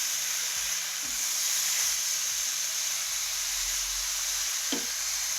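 Boiled cauliflower florets fry in a pan, a steady close sizzle and hiss with soft scraping as they are stirred and one brief louder clatter near the end.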